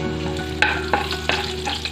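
Garam masala powder, fennel and cumin frying in about 100 ml of oil in a kadai for mutton kulambu, a steady close sizzle broken by a few soft scraping stirs, with no voices.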